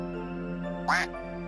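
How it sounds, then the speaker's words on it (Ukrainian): A single short duck quack pops out over a steady background tone, loud and close. "Звісно, качка"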